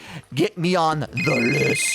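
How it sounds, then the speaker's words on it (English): A telephone bell rings in a home setting, a bright sustained ringing tone sounding near the end while someone talks over it and other voices are heard earlier. "Oop, that's the phone."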